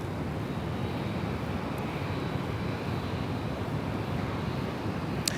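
Emirates airliner taxiing toward Bay 57 at Sydney Airport, a steady low engine rumble holding close and even throughout, with light wind buffeting on the microphone.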